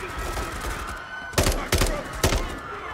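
Gunfire in the video game Call of Duty Modern Warfare III: three sharp, loud shots or short bursts crack out close together near the end, after a stretch of game ambience with a faint voice in the background.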